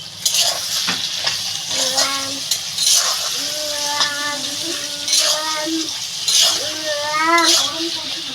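Eggplant and fish bladder frying with garlic in a pan, a steady sizzle with stirring scrapes throughout, while someone talks over it.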